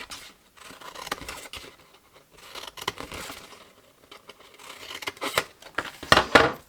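Scissors snip through paper while cutting out a wiggly shape for a hexagonal gift box, with repeated crisp cuts and rustling paper handling, close and fairly quiet with no talk.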